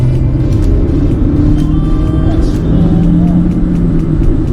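A Mercedes-Benz A-Class 1.3 Turbo pulls away and accelerates, its engine and tyre rumble loud and steady throughout, with road noise filling the low end.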